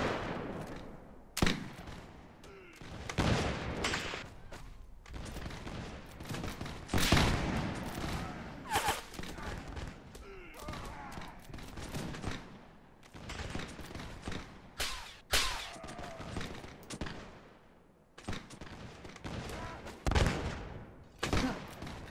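Musket volleys in a Napoleonic-era Mount&Blade battle with the Sharpe's Rifles mod, scattered loud cracks and booming reports, some near and some distant, recurring irregularly throughout amid battlefield noise.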